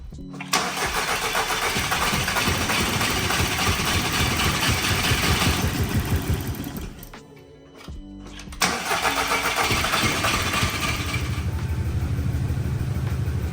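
A VW Mk5 GTI with misfires and a flashing check engine light cranks and catches into a loud, close, uneven idle. It sags and nearly stalls about halfway through, then picks back up to a lumpy, stumbling idle, with no talking.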